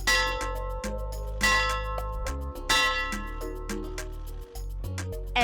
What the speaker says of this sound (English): ringing the bell at this particular stadium